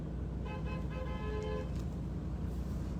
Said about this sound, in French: Celui-ci klaxonnait quoi?